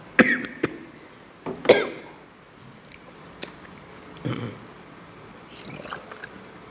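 A preacher gives a few sharp coughs and throat clears during a religious lecture, scattered bursts with quiet gaps between them and no speech.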